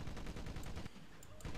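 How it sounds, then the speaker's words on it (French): A heavy .50-caliber machine gun in the video game Medal of Honor: Pacific battles fires in a rapid continuous burst, loud and close, stops briefly and then resumes. "Donc là, on prend la mitrailleuse"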